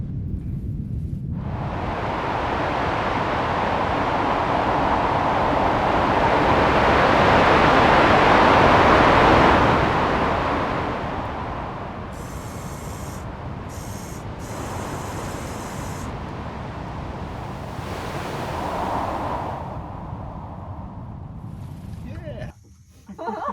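Processed wind recorded on Mars by the Perseverance rover gives a soft, steady rushing hiss that swells gently and fades. It ends with a few brief clicks.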